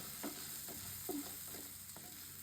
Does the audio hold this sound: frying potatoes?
yes